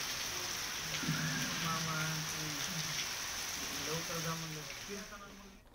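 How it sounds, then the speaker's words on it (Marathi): Heavy rain pours down in Beed, a dense, steady hiss of drops that stays even from start to finish, with a voice talking over it. "बीडमधली ही दृश्य, मुसळधार पाऊस पडतोय."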